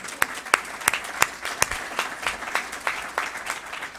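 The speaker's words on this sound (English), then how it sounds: "Round of applause," Applause at a civic club luncheon panel, a sparse, fairly quiet round of distinct claps at a loose, steady rhythm, as if from a small number of hands in a room.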